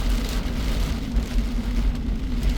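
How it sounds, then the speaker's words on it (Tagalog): Heavy rain pours onto a road in Dubai, a steady, dense broadband wash with a low rumble of passing cars underneath, constant and close throughout. "Lakas ang ulan."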